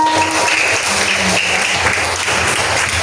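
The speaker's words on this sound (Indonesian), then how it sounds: "Tepuk tangan." Steady dense clapping from a classroom of pupils after a student presentation, even and continuous throughout at moderate loudness.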